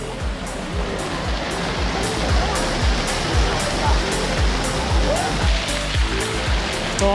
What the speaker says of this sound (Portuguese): agora aqui é a piscina de ondas